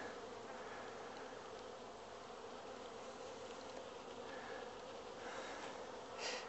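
A honeybee swarm at the hive gives off a dense, continuous buzzing hum. It stays steady and fairly close throughout, with no talking.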